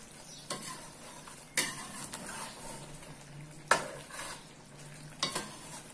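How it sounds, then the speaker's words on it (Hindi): Chicken korma simmering on a low flame with nutmeg and mace stirred in, a quiet bubbling sizzle punctuated by four distinct clinks and scrapes of a spoon against the pot. "पांच मिनट तक इसे मैं मजीद लो फ्लेम पे पकाऊंगी।"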